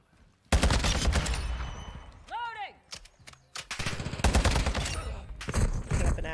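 Heavy gunfire in the Call of Duty video game: dense, loud bursts of automatic fire with a brief whistling, swooping tone in the middle, then more rapid shots. Voices are faintly audible amid the shooting.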